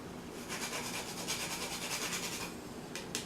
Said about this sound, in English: just grating it on a little nutmeg grater